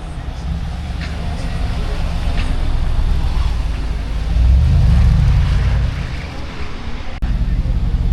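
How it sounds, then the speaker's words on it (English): A Brabus Mercedes G-Wagon rolls past on a Monaco street, its low engine rumble swelling to a peak midway and then fading amid steady traffic ambience and some background chatter. "including this Brabus G-Wagon about to come by"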